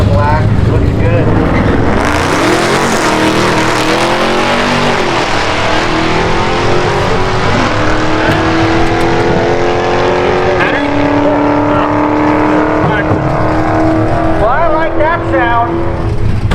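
A Dodge Charger 392 four-door revs loudly and close, its engine climbing and dropping through repeated throttle blips with a deep rumbling exhaust note sustained throughout.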